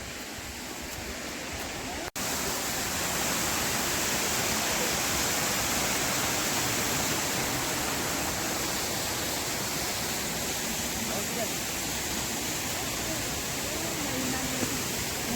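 A waterfall in Darjeeling, falling from a great height, roars in a steady, loud, unbroken rush of water that fills the whole stretch after a brief quieter start.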